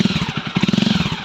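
A Jawa 42 motorcycle engine runs close by with a rapid, even thumping pulse, a throbbing low-pitched idle that quickens slightly toward the end, heard alone without speech.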